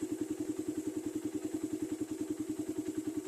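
A motorcycle engine idles at low RPM, around 1,250, with a steady rapid putter and a faint mechanical clatter, close by and alone.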